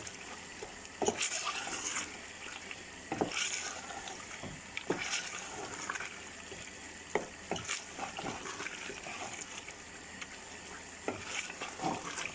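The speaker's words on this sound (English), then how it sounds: "You need to give it a good stir." Afghani chicken pulao stirred in a pot, with cumin and black and green cardamom in the mix, giving a steady scraping, clattering bed broken by sharp spoon knocks every second or two, close and moderately loud with no voices.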